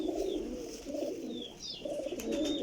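Pigeons at a loft coo softly in repeated low, throaty rolls, with a few thin chirps above, heard close but quietly and without talk.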